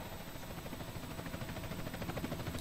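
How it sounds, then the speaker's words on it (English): A helicopter arrives in Grand Theft Auto: San Andreas, its steady whirring rotor noise and engine drone filling the scene as a constant, moderately loud wash of sound with no speech. "Chopper inbound!"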